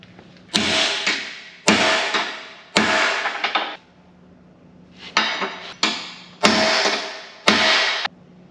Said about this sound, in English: we're gonna gently finesse it back straight with a hammer.